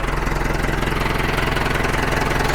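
An engine idles close by with an even, rapid pulsing chug, steady and unchanging throughout.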